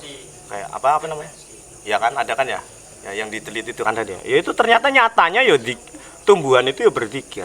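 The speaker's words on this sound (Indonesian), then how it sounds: "Ini suara jangkrik ini lagi zikir ini" Crickets chirp as a steady, thin, high-pitched trill that runs continuously under someone speaking throughout an evening religious study gathering.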